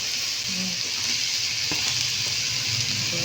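Quail pieces and tomato sauté in a hot pan with a steady, bright sizzle, broken by a few soft stirring scrapes, close by and without voices.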